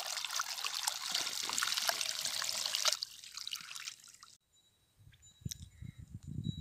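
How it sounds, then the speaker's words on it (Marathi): Irrigation water runs into a freshly opened field bed on a farm, a steady broad rushing flow for about three seconds that thins to a softer trickle, then drops away before faint low knocks and rustles return. "आता नवीन वाफ्यात पाणी काढलंय मी."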